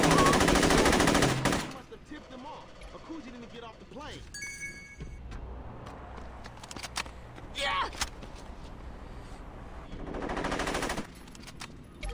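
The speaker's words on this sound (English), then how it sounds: "They have different gun, better gun." Enemy guns fire in the video game Saints Row 2, with a loud burst of rapid automatic gunfire at the start, then scattered shots and a later burst, while a voice talks over the action.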